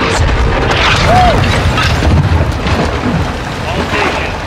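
Artillery strike explosions in Call of Duty: Modern Warfare 2, heavy booming blasts rolling through a dense wartime battle soundscape for several seconds, with game dialogue over the top.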